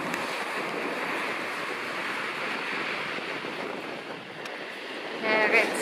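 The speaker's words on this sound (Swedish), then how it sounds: "Och nu är det högvatten och det blåser typ 8 meter per sekund om inte mer. Så nu är det rejäla vågor." Strong waves at high tide break and rush in a steady wind of about 8 metres per second, giving a broad, continuous roar with a swell near the end and faint wind buffeting.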